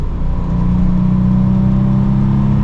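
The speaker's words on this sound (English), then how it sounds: "It's got a nice tone to the engine. It's like a little throaty sound to it" Air-cooled classic Porsche engine on a downshift, a loud, close, throaty drone that holds steady and full for a few seconds with the cooling fan whirring underneath.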